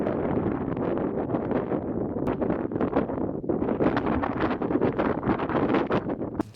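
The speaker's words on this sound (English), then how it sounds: "It's quite a lot of wind this morning." Strong morning wind buffets the microphone outdoors on a remote Scottish island coast, a loud continuous rumbling roar with gusty surges and no pauses.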